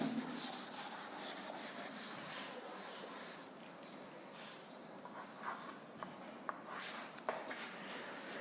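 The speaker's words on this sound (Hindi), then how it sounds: "सेकंड पॉइंट इधर लिख देता हूं" Chalk or marker scratches across a board while electrical capacitance notes are being written in a lesson, soft rubbing strokes with a few sharper taps, close and quiet, with no speech.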